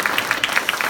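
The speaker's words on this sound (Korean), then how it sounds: "우리 박수 한번 크게 아주 크게" A congregation claps in a church setting, a brisk, regular run of about eight distinct claps in under a second, fairly close and steady.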